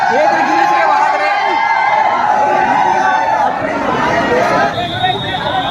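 A large, jostling crowd presses around Amlesh Nagesh on his first visit to Rajnandgaon, a dense, loud babble of many voices with scattered shouts and whoops, close and continuous throughout.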